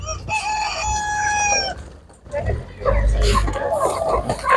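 Chickens, young hens, cluck and squawk close by amid a busy crowd at an animal market, with people talking over the birds throughout.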